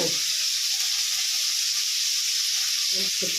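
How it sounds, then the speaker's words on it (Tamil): Curry leaves crackle and sizzle in hot oil, a steady loud hiss running throughout, with a few clattering bumps near the end. "கருவேப்பிலை போட்டுக்கிறோன்னு"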